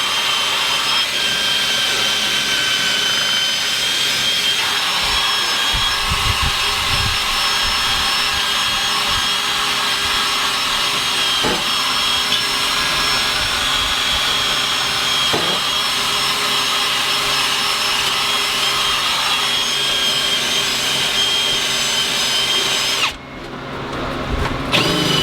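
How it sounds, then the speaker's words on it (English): A power wire wheel grinds rust off the metal of a 1964 Chevrolet Malibu, a steady loud whirring buzz with a shifting pitch as it bites the surface, running nearly continuously before cutting off briefly near the end. "Wire wheel fun."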